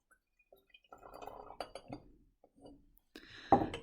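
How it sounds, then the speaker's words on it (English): Sulfuric acid, about 50 cubic centimetres, poured into a glass conical flask, giving a brief liquid splash and trickle with light glass clinks, moderately faint and close. "Now we'll pour that into our conical flask"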